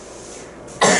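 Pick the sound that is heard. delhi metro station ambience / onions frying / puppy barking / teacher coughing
teacher coughing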